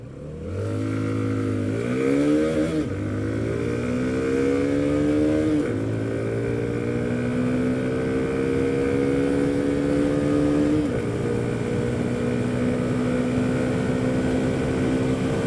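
A Hero MotoCorp Xtreme 125R motorcycle pulling away from a stop while being ridden, its engine note climbing loudly and steadily through several gear changes, each shift marked by a brief drop before the pitch rises again.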